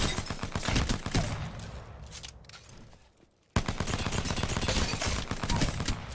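Rapid bursts of gunfire from the video game Apex Legends, crisp cracks in quick succession, then a brief near-silent lull before another long, dense volley of shots.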